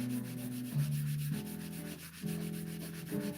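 A resin bowl is sanded on a lathe turning at slow speed: a steady, humming, rubbing drone whose pitch steps up and down between passes, continuous and fairly quiet.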